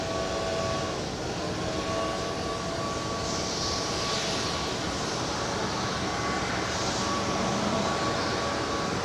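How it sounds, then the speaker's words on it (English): A United Airlines Boeing 757-300 arriving from Chicago O'Hare lands at Los Angeles airport, a steady broadband jet rumble with faint tonal engine whines, moderately loud and unbroken throughout. "That's United Airlines Flight 2105 coming in from Chicago O'Hare at 757-300 in the new Evo Blue livery"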